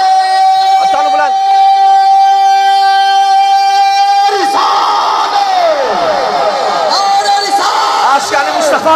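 Large gathered crowd at a religious gathering for Peer Syed Ahmad Muhammad Shah at Chura Sharif, loud massed voices chanting and shouting slogans together, a sustained drone-like tone beneath, dense and continuous throughout.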